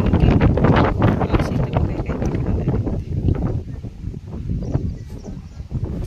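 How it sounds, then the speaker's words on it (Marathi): Strong wind gusting across open farm fields outdoors on a sunny day, a steady loud rumbling roar buffeting the microphone throughout with no speech. "आणि हवा पण खूप सुटली"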